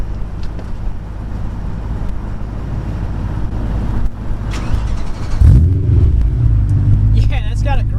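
Cold start of a BMW E92 M3 engine outdoors, a steady loud mechanical rumble that surges as the engine catches around the middle and settles into a rough idle, with people talking over it.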